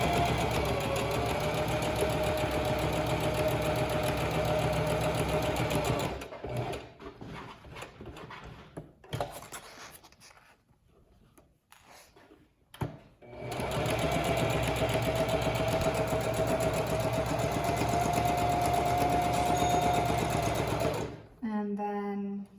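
A sewing machine stitches a whale stuffie in long steady runs close by, pausing midway for a stretch of quieter handling and clicks before stitching resumes, then a final short burst.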